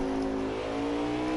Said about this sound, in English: you can kind of hear his engine and where his shift points are